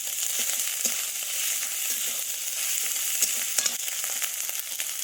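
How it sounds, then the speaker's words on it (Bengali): Steady oil sizzle of a ginger, garlic and cumin paste frying in a pan, with occasional soft stirring scrapes and crackles, close and continuous throughout. "আদা বাটা রসুন বাটা জিরে বাটা দিয়ে ভালো করে ভেজে নিই"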